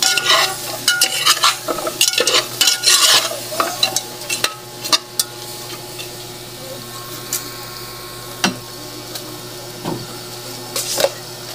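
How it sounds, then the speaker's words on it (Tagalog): Ginataang gulay, vegetables simmering in coconut milk, being stirred in a pot, with repeated scraping and clinking strokes of the spoon against the pot in irregular bursts over a soft steady bubbling. "Haluin natin siya guys."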